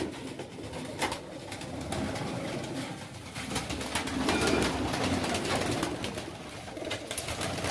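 A flock of about 125 farm pigeons is released all at once. Wings whir and flutter nonstop with occasional cooing, a busy mass of birds close by.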